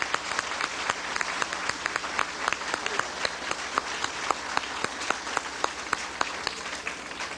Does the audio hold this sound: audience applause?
yes